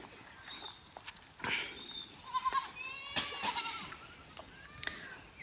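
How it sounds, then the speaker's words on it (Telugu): Several goats bleat repeatedly in the distance against a faint outdoor background, their calls overlapping now and then, as they are herded through a forest village in Maredumilli, India. "ఒక పెద్ద ఆయన అయితే మేకలు తోలుకొస్తూ ఉన్నారు"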